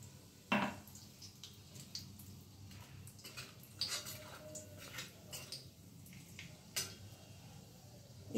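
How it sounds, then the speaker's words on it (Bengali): Cardamom and cinnamon tempering in hot oil are stirred in a pan, giving scattered clinks and scrapes of a spoon against metal over a faint, low sizzle, close and fairly quiet with no talk. "এই ফোড়নটা একটু নাড়াচাড়া করে নিয়ে"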